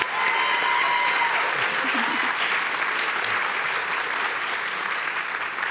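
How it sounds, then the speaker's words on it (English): An audience claps steadily for a panel at the close of a session on difficult conversations in intersectional teams. The dense applause stays loud and sustained throughout. "Everybody, please give them a round of applause."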